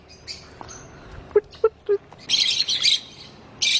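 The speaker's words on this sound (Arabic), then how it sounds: "تسمعون صوت العصافير" Sparrows chirp in short, bright bursts and quick trills, with a few soft clicks between calls, fairly close in a quiet outdoor setting.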